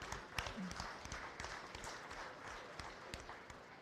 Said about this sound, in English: Let's give Tanner a round of applause for all of his hard work